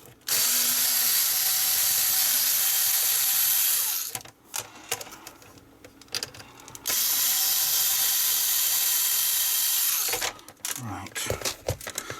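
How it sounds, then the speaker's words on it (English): Two screws are unscrewed from a Sega Saturn part with a ratcheting tool, giving two long bursts of close, rapid mechanical clicking separated by quieter handling noise. "what I need to do is unscrew the old one, which is held in with 2 screws"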